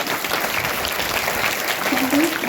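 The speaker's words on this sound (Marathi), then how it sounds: "एकदा जोरदार टाळ्या वाजवत आपण आभार" A crowd claps together in loud, dense applause, a steady wash of many hands with no letup, at a school's first-day welcome event.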